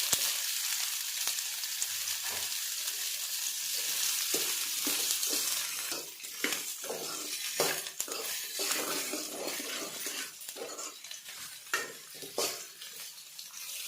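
Half-boiled cauliflower frying in a pan with onion and curry leaves, a constant loud sizzle broken by repeated sharp clinks and scrapes of a spoon stirring against the pan.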